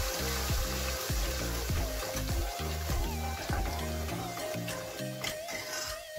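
Onion paste frying in oil for mushroom matar sabji: a soft, steady sizzle runs beneath a repeating mechanical pulsing hum, fairly quiet, with no talk.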